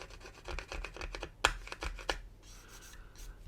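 Fingernail scraping across the rough plastic finish on the wings of a 1/32 scale Special Hobby Tempest Mk V model, a run of short rasping scratches close to the microphone, with two sharper clicks partway through.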